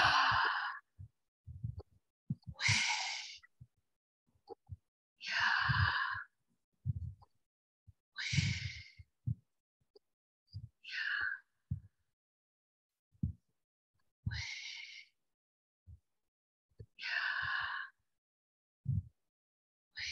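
Slow, deep meditative breaths drawn in and let out over and over, each a soft airy rush a few seconds long, close and unhurried, with gentle low thumps between them and no talking.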